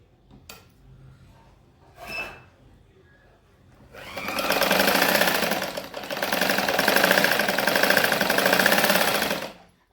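A sewing machine stitches a strip for a blouse sleeve. After a few faint handling knocks, it runs steadily for about six seconds, close and clear, with a brief slowdown midway.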